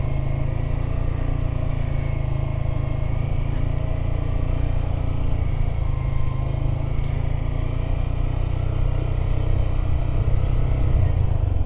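A motorcycle rolling slowly while its rider practises gentle braking: a steady, close, low engine rumble at a constant pace with no clear revving, heard alone without speech.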